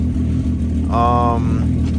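A Volkswagen Golf MK2 roadster fitted with an R6 engine runs at a steady, loud low rumble, its idling drone continuous throughout while a person talks briefly over it nearby.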